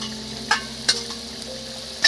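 Curry for a mustard-paste dish simmering in a pan, a steady low bubbling hiss with three sharp metallic clinks of a utensil, close and moderate in level, no one speaking.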